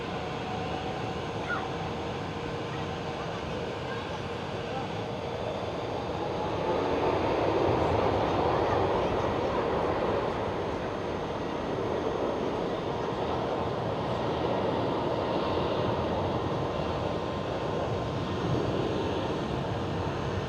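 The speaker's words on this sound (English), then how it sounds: "United Airlines 777-200 lining up and rolling on runway 24." A United Airlines Boeing 777-200 takes off on runway 24 at Amsterdam Schiphol, its engines roaring continuously in the distance and swelling a little as it rolls.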